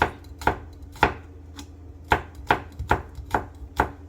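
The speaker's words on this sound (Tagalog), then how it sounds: "Tapos yung bawang, islice natin siya." A kitchen knife slices through garlic cloves on a cutting board, making about nine crisp, evenly spaced taps close up, with nothing else heard.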